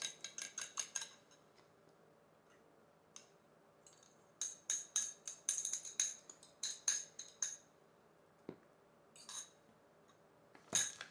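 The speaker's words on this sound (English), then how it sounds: "I'm going to beat that egg." A utensil clinks rapidly against a bowl in quick rhythmic bursts with short pauses, the sound of beating an egg close up.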